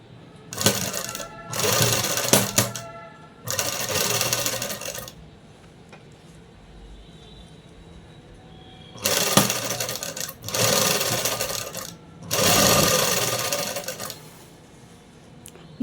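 A sewing machine stitches a folded dress hem in several sustained whirring, rattling runs of one to two seconds each, separated by quiet pauses while the fabric is repositioned.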